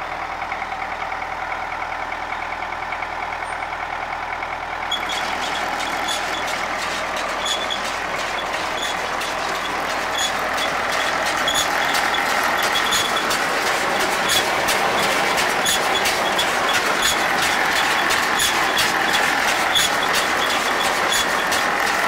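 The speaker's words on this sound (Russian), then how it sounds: "Сейчас попробую заведу этот, прокрутить и покажу, как ходят звездочки" A tractor runs a CLAAS Rollant 46 round baler, a steady engine drone that swells noticeably a few seconds in and then carries on evenly with a fast, regular mechanical ticking from the turning drive.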